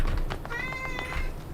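A cat meows once, a drawn-out, wavering cry that sits close and clear over a low background rumble.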